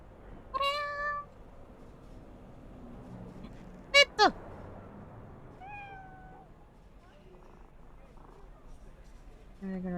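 A cat in a video game meows while being petted, a few short bright mews spaced across a quiet stretch, with a sharper double cry in the middle.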